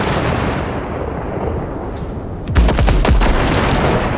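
Rapid heavy gunfire erupts in Cyberpunk 2077 Phantom Liberty as wrecks are blasted, a loud burst of repeated booming shots after a stretch of droning engine-like rumble.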